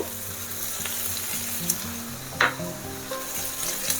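Egg noodles frying in a pan as ingredients and salt go in and get mixed, a steady close sizzle broken by a few scraping stirs and light clinks of the utensil.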